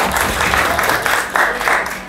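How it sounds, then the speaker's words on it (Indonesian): Eighth-grade classmates applaud a student group after its presentation, a sustained patter of many hands clapping. It is close and fairly loud, with no speech over it. "tepuk tangan untuk kelompok."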